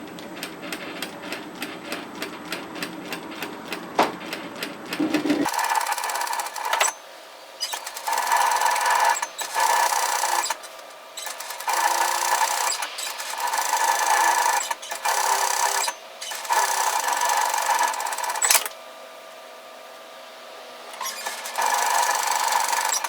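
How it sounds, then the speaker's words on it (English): A sewing machine stitches a seam down one side of a floaty top, running loud in bursts with short pauses between them and no talking. "just stitch from the very top to the very bottom on one side and then the same on the"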